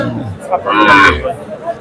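A single loud, drawn-out cow moo at a cattle market in Madaripur, close by, with faint crowd murmur and voices in the background.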